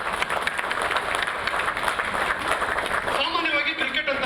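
Loud applause from an audience at the Kiccha Cricket Tournament league event, a continuous dense wash of clapping that stays steady throughout, with some voices mixed in.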